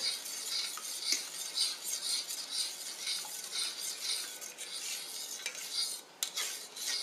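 A utensil scrapes and clinks steadily against a bowl while scrambled eggs are stirred, a continuous close rhythmic rasping with small metallic taps, no talking over it.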